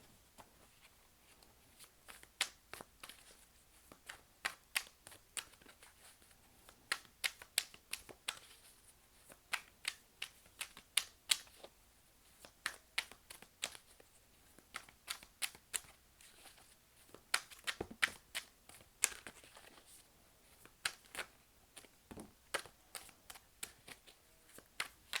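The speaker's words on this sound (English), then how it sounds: "I do like to shuffle on camera as well." Cards being shuffled in quick crisp bursts, sharp riffling snaps repeating irregularly over a quiet background, close to the microphone.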